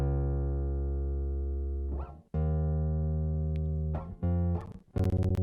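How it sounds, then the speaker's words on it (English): Bass guitar playing a simple line in an Afrobeat production, sustained low notes held for a few seconds each with brief breaks between them, alone and clear. "I played some bass guitar with that."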